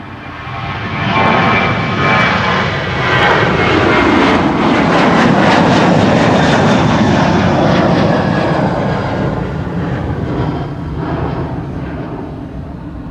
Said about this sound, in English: now it is a 737 coming this way, so that's going to Edinburgh